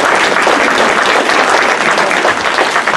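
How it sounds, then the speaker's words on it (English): Loud, dense audience applause fills an audit rule training session held by the New Mexico Office of the State Auditor, a steady wash of clapping from a large crowd. "And give them a round of applause."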